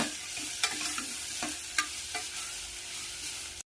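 Fenugreek leaves and rice fry with salt and garam masala in a steady, soft sizzle, broken by sharp spatula scrapes and knocks against the pan, with no voices.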